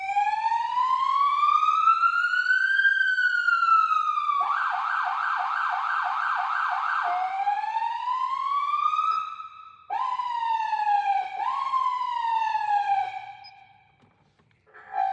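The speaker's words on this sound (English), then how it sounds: "we've got a loudspeaker and we've got some police sirens" A police siren plays through a loudspeaker on a small Nissan Pulsar prepared for a rally, sweeping wail tones shifting into a fast yelp and back, loud and steady before trailing off near the end.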